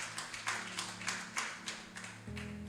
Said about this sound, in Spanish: Dámosle un aplauso al Señor.